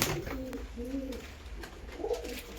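Pigeons coo inside a breeding loft, several soft, low throaty calls rising and falling in repeated phrases over a steady background hum, fairly close and moderately loud.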